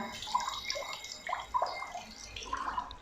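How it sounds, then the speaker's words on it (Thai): Water runs steadily to flush a toilet in a school-style bathroom, a continuous close splashing and trickling stream with small drips throughout, no voices. "เด็กๆก็จะต้องเปิดน้ำทิ้งนะคะ"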